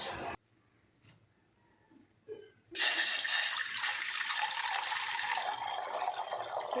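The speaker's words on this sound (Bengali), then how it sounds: "এই যে এখানে জল নিয়ে আসছি দরজায় জল দেব" Water is poured onto a doorstep during a morning routine: after near silence and a couple of faint knocks, a loud, steady splashing gush starts abruptly and keeps running close by.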